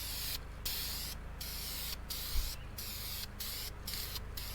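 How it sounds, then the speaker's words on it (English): Aerosol can spraying caliper enamel onto brake calipers during a Firebird restomod, a steady close hiss running almost continuously with several brief breaks between bursts. "Let's go ahead and spray these."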